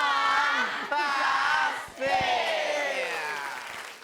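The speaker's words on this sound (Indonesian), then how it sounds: "kita kasih tepuk tangan buat Pak Hati." Studio audience on an Indonesian TV comedy show, a loud continuous roar of crowd cheering and clapping with shouted voices, steady for about two seconds, a brief dip, then swelling again before fading slightly.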